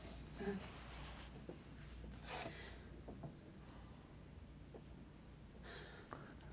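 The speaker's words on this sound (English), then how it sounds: "It's a kind of a strange gasping kind of sound." A person makes strange, gasping breaths close to the microphone, a run of short raspy inhales and snorting rushes of air over low steady background noise, with no words spoken.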